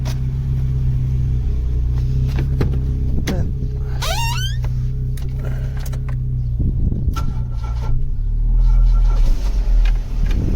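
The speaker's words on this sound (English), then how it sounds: "I'm obsessed with my cheap Euroflow exhaust" Steady low engine rumble close by from a Vauxhall Cavalier with a cheap Euroflow aftermarket exhaust, deep exhaust note, a brief rising whine partway through and the engine growing slightly louder near the end.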